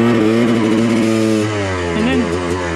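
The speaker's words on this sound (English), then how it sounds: "Come in hot, hit the back brake, skid around." Dirt bike at Hollister Hills braking hard and skidding around in a pivot turn; a steady, loud close engine drone eases back halfway through, then rises again briefly, with no separate skid noise standing out.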